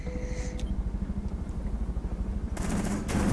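Rapid automatic gunfire rattles in Rainbow Six Siege, a fast steady train of shots over a few seconds, fairly distant and muted, ending with a louder hissing burst near the close.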